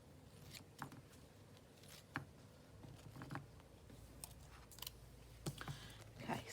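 Scissors snip paper at a Halloween journal craft session, with quiet, scattered crisp cuts and rustles spaced irregularly in a hushed room.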